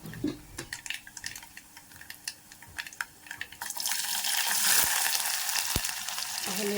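Sliced onions hit hot oil in a pan with bitter gourd for a Telugu-style dish, a scattering of light clinks giving way to a loud, steady sizzle that swells and holds, with a couple of sharp taps.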